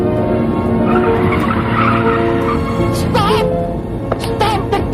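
Car racing along with tires squealing and skidding loudly in a film scene, the engine roaring beneath while voices shout over the screeching tires.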